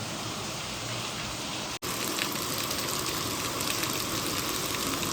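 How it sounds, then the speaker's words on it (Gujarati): Steady rain falls in a continuous, even wash of noise, moderately loud, with no voices and a brief dropout early on. "એવો જ વરસાદ અત્યારે ચાલુ છે"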